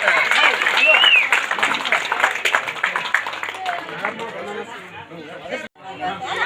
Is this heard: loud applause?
yes